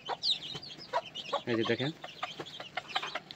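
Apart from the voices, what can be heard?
chickens clucking during Ranikhet vaccination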